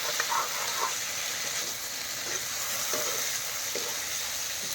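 Local chicken meat dry frying in a pan with a steady, close sizzle and occasional stirring scrapes, continuous throughout with no voices.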